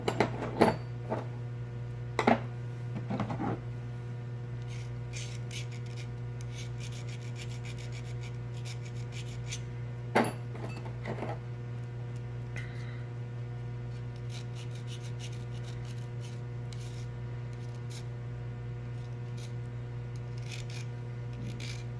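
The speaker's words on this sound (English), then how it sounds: "I'm basically just reprofiling and thinning this edge down" A cast boat propeller edge being hand filed to reprofile and thin it: a few short rasping strokes near the start and one more later, quiet over a steady low hum, with no voices.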